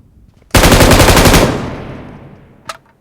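Automatic rifle fire in the PUBG Mobile video game rattles out in a loud, rapid burst lasting about a second, then rings off into a fading echo, with a faint click afterward.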